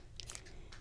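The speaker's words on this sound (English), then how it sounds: "I apologize if you can hear my cat chewing very loudly in the background." A cat chews loudly on food indoors, giving a few faint crunching bites in quick succession in the background, with no talk.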